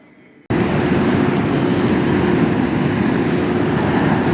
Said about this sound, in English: there was the majestic KLM Dreamliner -10